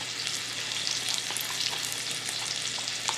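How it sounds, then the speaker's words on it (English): Food sizzles and spits steadily in hot oil, a dense crackling hiss with scattered pops, close up and continuous. "It's frying up."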